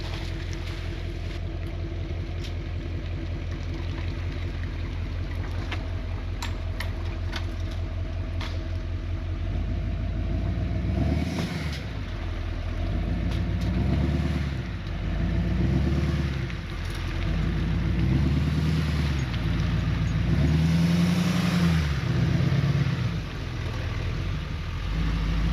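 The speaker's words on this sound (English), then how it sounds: "We're gonna have to drive through that puddle in reverse though." A truck camper's engine drones steadily and low while reversing through a puddle, with a continuous rumble that swells and ebbs slightly as the vehicle works through the water.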